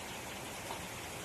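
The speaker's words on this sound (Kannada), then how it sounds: "ಆಚೆಗೆ ಬರ್ತಾ ಇದ್ದೀರಿ ನೀವು ಮಳೆ ನೋಡಕ್ಕೆ?" Rain falls steadily outdoors as an even, dense hiss, brief and uninterrupted, with no voices or other sounds over it.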